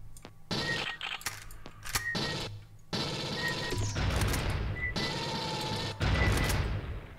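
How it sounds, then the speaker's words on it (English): Rapid bursts of enemy gunfire in the video game Aliens versus Predator 2000, loud and close, repeating in dense fusillades separated by brief gaps, with sharp impacts and high metallic tones ringing through the shots. "Keeps trying to shoot me with his thing."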